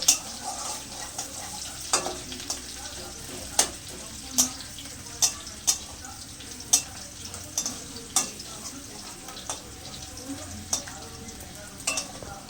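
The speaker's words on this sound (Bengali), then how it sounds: "রসুনটা একটু লাল করে ভেজে নেবো" Crushed garlic fries in oil in a tempering for potato and okra chochchori, with a steady bright sizzle broken by sharp spoon or spatula clicks and stirring scrapes at a fairly regular pace, close and alone.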